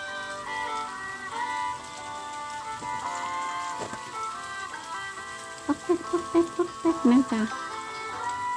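Hail falls in the United States during the first winter storm of 2021 as a steady close patter, with a voice talking softly near the end.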